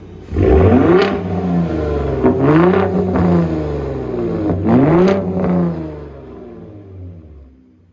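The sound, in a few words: 2021 Ford Raptor engine revving in Baja mode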